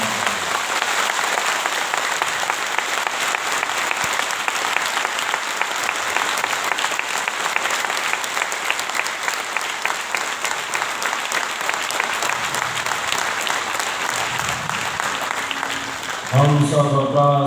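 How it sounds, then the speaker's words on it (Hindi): Long, thunderous applause from a large crowd at a religious discourse gathering, continuous dense clapping sustained for over fifteen seconds before a voice and music cut in at the end. "सभी एक दूसरे के उत्साहवर्धन में तालियों की गड़गड़ाहट करें"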